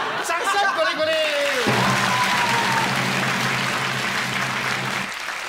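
Studio audience on a variety show claps warmly, a bright steady patter of many hands; a tonal musical sweep and brief voices sit over the start before the applause carries on alone and then fades.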